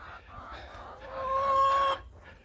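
Chickens in a backyard garden flock cluck and call nearby, a short throaty vocalisation swelling into a sustained tonal squawk before cutting off, with quiet murmuring background.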